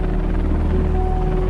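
A helicopter flies close by with a loud, steady, rapid rotor thump and engine drone, heard alone and continuous throughout.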